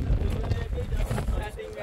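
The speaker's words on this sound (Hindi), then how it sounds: "क्या हवा चल रही है यार" Strong wind blows across an outdoor spot during kite flying, a rough, gusty rumble buffeting the microphone throughout, with a voice talking over it.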